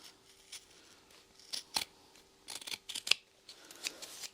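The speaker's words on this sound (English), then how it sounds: "Alright, I'm going to trim off this top edge." Scissors trim the top edge of a sewn fabric clutch wallet, giving a few sharp, close snips scattered irregularly through a quiet room with no talking.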